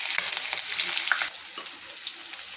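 Onions and green chillies sizzle and crackle in hot oil, a bright continuous frying hiss with occasional pops, softening a little halfway through.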